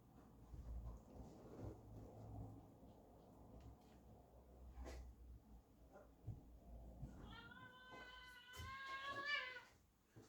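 A pet cat meows several times in a rising, wavering series near the end, loud and close, after a stretch of low room noise and rumble.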